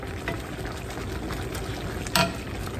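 Stuffed pasta shells simmering in meatball gravy: a continuous bubbling, gurgling simmer close up, with a sharper pop or clink near the end.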